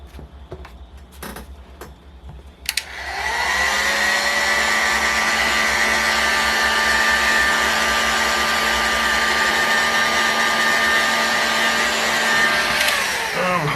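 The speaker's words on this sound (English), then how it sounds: "heat this crankcase up so we can pop this crankshaft out" A heat gun switches on with a click and settles into a loud, steady blowing whine, heating a model engine crankcase close by, running continuously before cutting off at the end.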